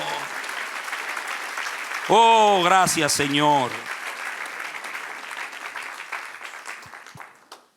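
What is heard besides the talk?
congregation applause in church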